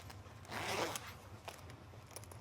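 A heavy YKK dual zipper on a thick vintage L.L.Bean Baxter State parka being pulled, a quiet rasping zip of about half a second followed by a few faint clicks of the slider, close and alone.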